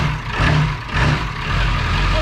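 A diesel truck with 431,000 miles idling just after a cold start, a loud, close, steady low rumble with a slightly pulsing rhythm.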